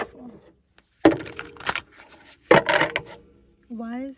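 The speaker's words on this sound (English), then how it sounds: "One more good shuffle." A deck of tarot cards is shuffled by hand in two quick, crisp riffling bursts, with a voice briefly heard at the start and again at the end.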